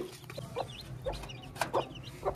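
A hen and her chicks cluck in a cage, with short clucks and peeps coming at uneven intervals. They sound close and moderately loud over a low background rumble, and no one speaks.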